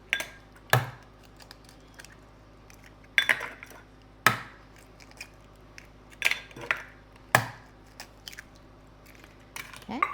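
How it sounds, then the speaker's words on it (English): Four eggs cracked one by one for old-fashioned Southern tea cakes, sharp close taps and crunches on a bowl edge spaced a second or two apart, with quiet handling between them. "We're gonna crack 4 eggs."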